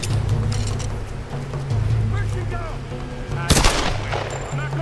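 Gunfire exchange in Tomb Raider: Definitive Edition, a sniper among the enemies, with one sharp loud burst standing out over a steady low hum and scattered shots, someone talking intermittently throughout.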